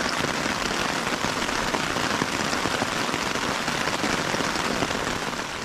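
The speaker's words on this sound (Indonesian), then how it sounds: "Di saat petir dan hujan yang tadinya udah pergi ke gunung sebelah, gak lama kemudian mereka balik lagi" Steady, heavy rain pours down without a break during a thunderstorm on a mountain summit, a dense hiss of drops hitting surfaces close by, with no voices.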